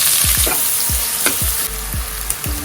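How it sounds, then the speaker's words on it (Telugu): Chopped large onion pieces dropped into hot oil already holding cumin seeds, a loud close sizzle with repeated stirring scrapes and bubbling, no voices. "పెద్ద సైజ్ ఆనియన్ ని ఇలా చిన్న చిన్న పీసెస్ లా కట్ చేసుకొని ఆయిల్ వేసేస్తున్నాను"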